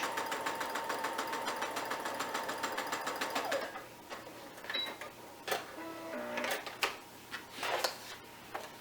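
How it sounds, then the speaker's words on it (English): A sewing machine runs a quarter-inch seam on fabric in a fast, even rapid-fire stitching rhythm for about three and a half seconds. Quiet handling clicks and fabric rustles follow once it stops. "then I'm going to sew a 1/4 inch"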